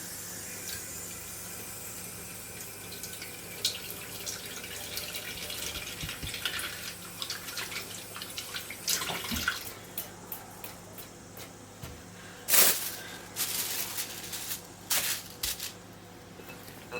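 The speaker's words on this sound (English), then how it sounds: "Just wet your hands." Tap water runs steadily while hands are wetted for shaping chicken patties, with intermittent splashes, drips and wet squishing of hands over the continuous flow, close and fairly quiet, no talking.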